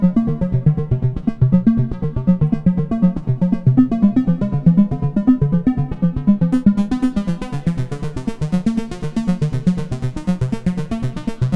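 A rhythmic Behringer Model D synth pattern with repeating plucked notes, drenched in echoing repeats from a Baby Audio Baby Come Back delay plugin; brighter, sizzling high layers join partway through. No voices.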